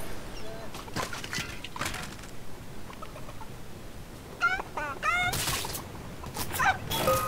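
Video game chickens cluck in short, quick bursts, clearest in the second half, layered over busy game effects and noise.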